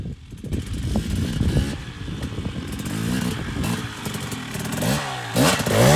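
Dirt bike engine revving and clattering up close as the rider attempts a double blip over a log, with throttle bursts and a sharp rev surge near the end.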